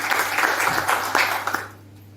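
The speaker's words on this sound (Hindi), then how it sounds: "इनके लिए जोरदार तालियां" Audience at a product demonstration event bursts into loud, dense applause that holds steady for under two seconds before fading quickly into quiet, with a faint low hum underneath.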